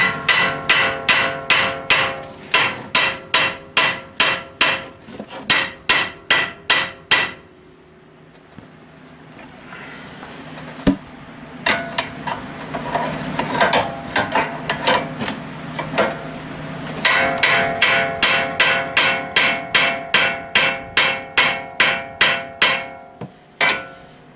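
A small hammer striking a car ball joint during removal, a run of sharp, evenly spaced metallic blows, then a pause of scraping and handling before another fast burst of ringing strikes.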